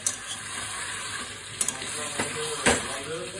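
Meat with onion and spice paste sautés in a pot, a steady broadband sizzle with occasional scrapes and clinks of a stirring utensil against the pot, close and moderately loud with no talking.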